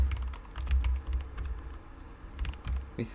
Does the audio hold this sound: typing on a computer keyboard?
yes